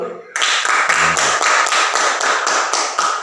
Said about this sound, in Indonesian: Kita tepuk tangan untuk kelompok 2 dulu.